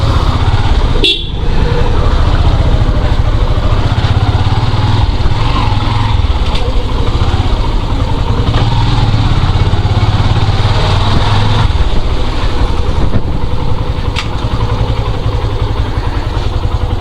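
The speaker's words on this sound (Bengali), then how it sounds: "এই জায়গাটাতেই মূলত বাইকটা রাখবো" A motorbike engine runs steadily and close by for the whole stretch along a narrow village lane, its low drone continuous with one short sharp burst near the start and no talk over it.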